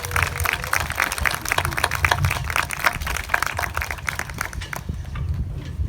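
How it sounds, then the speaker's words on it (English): An outdoor crowd applauds at a Memorial Day ceremony in Vallejo, California, with brisk scattered clapping running for several seconds before thinning out near the end, moderately distant. "Can we give all of our distinguished guests and speakers another round of applause"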